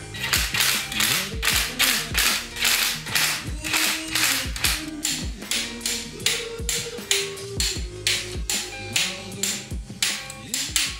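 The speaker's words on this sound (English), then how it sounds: "we've got our torque wrench, need to set it all up" A torque wrench ratchets on cylinder head bolts of a Ford Barra engine, a quick rhythmic series of loud close clicks repeating in regular strokes for the whole stretch, without speech.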